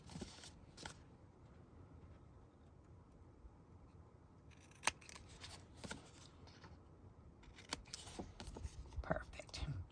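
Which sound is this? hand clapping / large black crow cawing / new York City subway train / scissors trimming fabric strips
scissors trimming fabric strips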